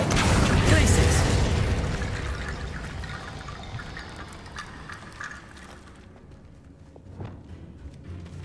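An icy Glacius spell is cast in Hogwarts Legacy: a loud, crackling burst of magical energy that slowly fades over several seconds, ending with a few faint tinkling crackles.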